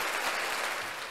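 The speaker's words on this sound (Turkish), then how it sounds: "Bir alkış oğlum." A short, steady burst of applause fills the moment, a dense wash of clapping heard alone at moderate level with no talk over it.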